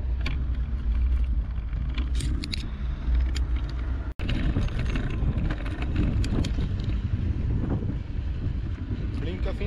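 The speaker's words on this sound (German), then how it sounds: "Hey Junge, da kommt ein Auto." A car approaches on a road in Austria, heard as a broad rumbling roar that swells under constant wind buffeting on the microphone, with a brief dropout partway through.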